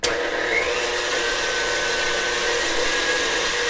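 An electric mixer beats egg whites toward soft peaks, giving a steady, loud, close motor whir with a broad airy hiss that holds even throughout, with no voices.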